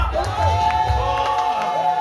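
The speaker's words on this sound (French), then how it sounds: "Poussons les cris de joie, les cris de joie." Crowd at a prayer gathering raising loud shouts and cheers of joy, a sustained dense roar with whoops rising and falling over about two seconds.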